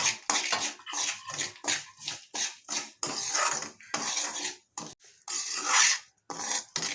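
Dry fruits and semolina being fried together in a pan for a sweet, with a spoon scraping and clinking against the metal in quick repeated strokes, close and fairly loud, with no talking.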